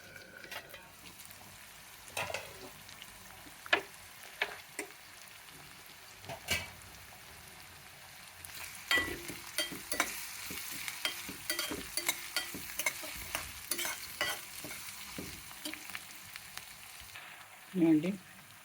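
Onions frying in a pan for godumarava upma, a soft crackling sizzle carrying on throughout with scattered stirring clinks and scrapes, louder in the second half and ending with a brief sharper clatter.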